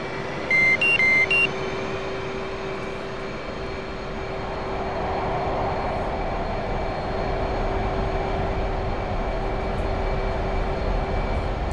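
An F/A-18C Hornet jet in the DCS game throttles up for takeoff, a loud steady engine roar that builds and holds, opened by a few short cockpit tones.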